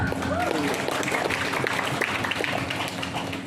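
Audience applause at a Maulid Nabi Muhammad celebration held at a junior high school in Tinambung, Polewali Mandar, a steady wash of clapping that runs through the whole stretch while a voice speaks over it.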